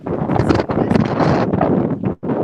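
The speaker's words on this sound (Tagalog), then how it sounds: "medyo mahangin pala dyan sa area ninyo" Strong wind buffets a microphone at a river bridge during Typhoon Uwan, a loud, steady roaring rumble that drops out briefly near the end before resuming.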